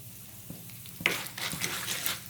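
Chana dal, urad dal, peanuts and cut dried red chilies fry in hot oil while being stirred for a variety rice dish. A soft crackling sizzle swells into brighter popping with a few scraping stirs, close and alone.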